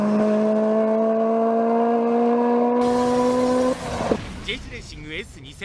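Honda S2000 roadster with its 240-horsepower engine holding a steady, droning tone for several seconds, which then breaks off into a rougher, shifting mix of engine and road sound.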